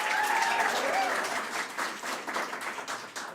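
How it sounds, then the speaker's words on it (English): A graduation-ceremony audience applauds in a sustained, dense wash of clapping that stays loud throughout, thinning slightly toward the end. "give Willem an extra round of applause"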